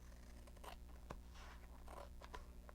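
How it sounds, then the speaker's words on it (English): Scissors trimming craft pieces, a few quiet close snips and paper rustles spaced irregularly against a soft low background hum. "Just gonna trim this a little better, and then trim the bottom side there."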